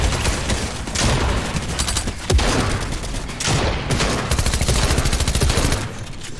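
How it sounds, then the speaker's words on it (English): SMG fire in Valorant comes in loud, sustained rapid bursts of crackling shots, with brief breaks between them. "Did they nerf the SMG, bro?"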